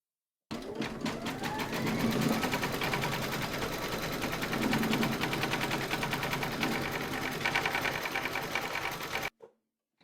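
An embroidery machine stitches background quilting on a coaster in peacock blue thread: a fast, steady mechanical rattle running continuously for about nine seconds, close and even, ending abruptly.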